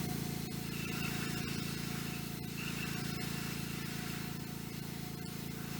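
An airbrush sprays thin coats of primer in a steady, soft hiss that holds at an even, close level throughout, with faint clicks and shifts as the brush moves.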